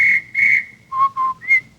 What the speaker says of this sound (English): If you're ever in Montclair, New Jersey, and you hear a policeman's whistle that goes like this,